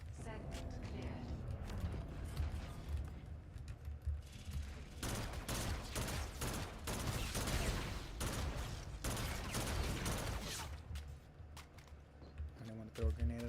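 Gunfire in a video game simulation, with dense bursts of rapid shots and clattering that swell in the middle, layered over game sounds and a talking voice.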